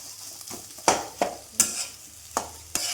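Potato pieces seasoned with turmeric and salt fry in a pan while a spoon stirs them, a soft continuous sizzle punctuated by about six sharp scraping clinks of the utensil against the metal, close and without voices.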